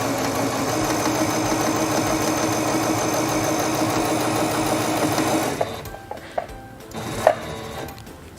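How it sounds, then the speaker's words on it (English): A sewing machine runs steadily as it stitches fabric forward along a quilting seam, a continuous close whirring drone for about five seconds, then it stops and a few faint clicks and handling sounds follow. "Release the button and sew forward along your seam."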